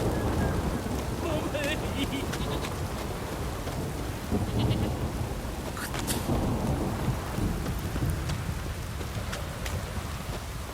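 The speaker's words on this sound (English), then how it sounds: "Don't stop raining, my arse will rot off." Heavy rain pours steadily in a Witcher 3 game scene, a dense wash of noise with low rumbles of thunder rolling underneath throughout.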